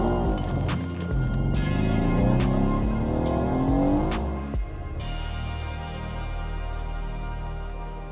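A modified Mercedes C63 AMG with an 830-horsepower engine runs loud and close, revving up and down in steady throaty waves, then settling into a rough, rumbling idle.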